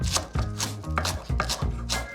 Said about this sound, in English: chop up about 3 handfuls of our freshly washed wild garlic leaves